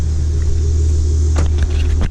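An Infiniti Q50 fitted with BC coilovers idles and creeps forward, a loud steady low engine rumble close by with a couple of faint clicks near the end.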